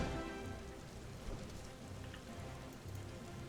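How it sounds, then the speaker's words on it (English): Steady rain falling over a city in the Final Fantasy 14 online game, a dense even hiss and patter of drops that carries on without a break and without any voices. "Oh, it's raining in the city."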